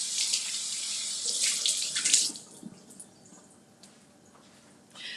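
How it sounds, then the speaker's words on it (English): Running tap water splashes over hollowed-out peppers as they are rinsed clean of seeds, a loud steady rush for about two seconds that then drops to a quieter trickle. "Clean it out, and then I just rinse it under some water to make sure it's seed free."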